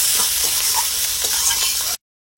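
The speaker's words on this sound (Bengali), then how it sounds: "মশলাটা ভালো করে কষে নিচ্ছি" Chicken and ground spices stir-fried in a pan for street-style chicken chow mein, a loud, close, continuous sizzle with scraping stirs, cutting off abruptly into silence.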